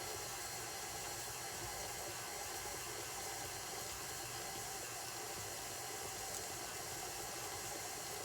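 A stand mixer with a paddle attachment creams butter and sugar, producing a steady, unbroken motor hum and airy whir that stays close and constant throughout.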